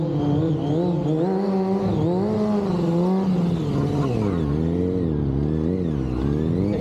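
A motorbike engine at a Scottish bike show revs up and down in long rising and falling sweeps, close and loud with a steady throaty drone underneath, the pitch climbing and dipping repeatedly.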